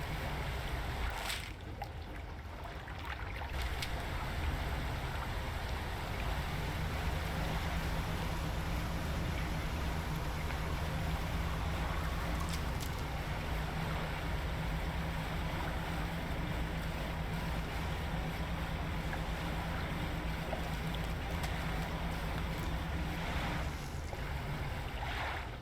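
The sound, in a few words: boat splashing through water in video game DREDGE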